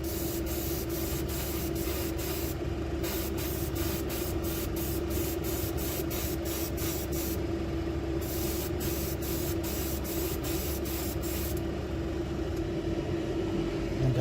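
Airbrush spraying fabric paint, giving a steady, close hiss that runs unbroken throughout, with faint rapid ticking over it.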